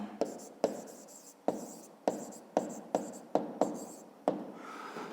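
Handwriting on paper during a fifth-grade math exercise: about eight crisp, close pen strokes in separate bursts, each a sharp scratch that trails off, with short pauses between.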